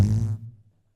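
A single close fart blurts out loud and low, then fades within about half a second to silence.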